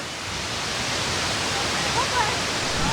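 A tall, large waterfall at Plitvice Lakes pours in a constant loud rushing hiss, steady throughout, with a voice faintly present over the roar.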